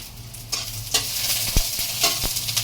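Sinangag, Filipino garlic fried rice, being stir-fried in a pan, with a steady sizzle under repeated scrapes and clanks of a spatula against the metal and no voices.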